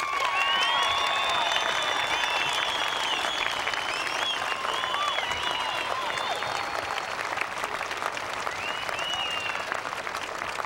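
Sustained applause from a large crowd at a 2004 high school graduation ceremony in South St. Paul, steady clapping with scattered whistles and cheers, continuing without speech.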